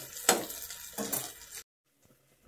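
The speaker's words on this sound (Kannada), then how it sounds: "ಹೀಗೆ ತಿರುಗಿಸಿ ಚೆನ್ನಾಗಿ ಫ್ರೈ ಮಾಡಬೇಕು" Fish frying in a pan with curry leaves, turned with a utensil: two bursts of sizzling and scraping stir noise, close and moderately loud, then near silence with faint clinks.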